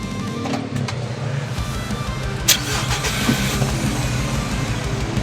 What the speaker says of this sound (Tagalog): Paandarin lang natin sa sasakyan.